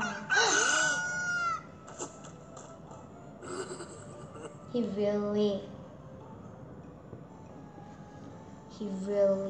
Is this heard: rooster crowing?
yes